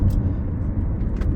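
A Jeep Renegade 1.4 turbo petrol SUV with a MultiAir engine pulls hard under acceleration, a brief loud low engine rumble heard from inside the car.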